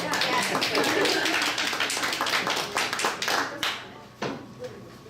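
A small group claps at a school facilities and finance committee meeting, a dense patter of hands that thins out and trails off into scattered last claps, with talk in the room.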